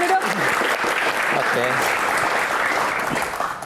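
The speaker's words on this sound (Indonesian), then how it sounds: "Tepuk tangan sekali lagi." An audience claps loudly and continuously at a live event, a thick, even wash of applause nearby, with someone briefly speaking over it at the start before the clapping tapers toward the end.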